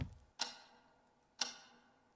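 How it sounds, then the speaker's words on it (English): Grandfather clock ticking in the old house of the horror adventure game Scratches: two crisp, evenly spaced ticks about a second apart, quiet and close with no other sound. "Majestic grandfather clock was gently ticking nearby."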